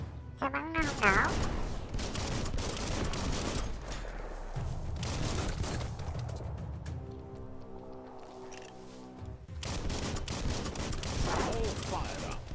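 Gunfire in the video game Biomutant, with bursts of rapid shots and impacts against busy game sounds, and a player's voice talking in between.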